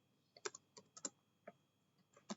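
Fingers type a date on a computer keyboard, about ten crisp, quiet key clicks in an uneven rhythm, close up in an otherwise silent room.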